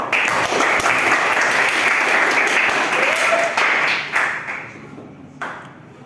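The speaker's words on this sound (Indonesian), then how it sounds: "oke, beri tepuk tangan untuk Sabrina" Applause from a classroom of students, dense steady clapping for about four seconds before fading out, with a few scattered claps trailing at the end.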